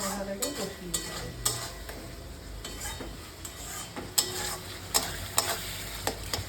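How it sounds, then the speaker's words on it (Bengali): Spice masala with salt, Kashmiri chilli and sugar is stir-fried in a pan, a soft steady sizzle broken by repeated scraping strokes and sharp utensil knocks against the pan. "খুব ভালো করে মশলাটাকে কষিয়ে নিতে হবে।"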